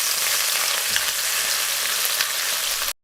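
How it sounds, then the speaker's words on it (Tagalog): Chicken stir-frying in its own rendered oil, a steady bright sizzle that holds at one level for about three seconds before cutting off sharply, with no voices over it. "We have to stir fry the chicken."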